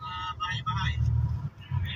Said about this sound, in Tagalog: Grabe traffic o.